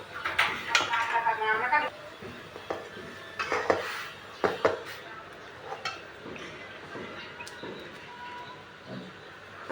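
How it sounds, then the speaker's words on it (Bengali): Ramen noodles are stirred in a pot, with clinking utensil scrapes and knocks against the metal coming in uneven bursts, mixed with other kitchen clatter and a person talking. "এটা একটু লাড়া দিয়ে নিই, আবার যেন পড়ে না যায়"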